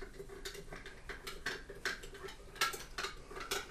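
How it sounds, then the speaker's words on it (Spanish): A spoon stirring salt into water in a glass, light rhythmic clinks and taps against the glass, faint and close, repeating irregularly. "Echamos sal en el segundo y lo removemos para disolver los minerales"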